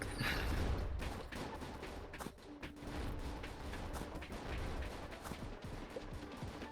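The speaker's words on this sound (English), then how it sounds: "I'm not gonna shoot, I'm just gonna nade." Grenades thrown and exploding in a shooter video game, a busy run of sharp bursts and gunfire-like cracks over a rumbling background, fairly faint overall.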